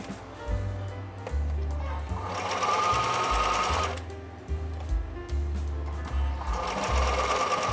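A sewing machine runs a straight seam through fabric for a pin cushion, whirring steadily and close in bursts that rise and ease with speed changes.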